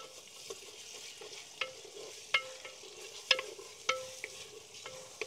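Onions frying in a pan for a spicy mutton curry on a farm, a steady soft sizzle with several sharp clicks of a spoon stirring against the pan, close and fairly quiet.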